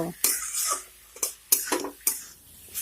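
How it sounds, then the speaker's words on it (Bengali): A spoon stirs sugar into a spinach and cauliflower curry in a pan, giving four or five sharp, close scraping strokes separated by brief pauses. "এখন চিনিটাকে মিশিয়ে নেব"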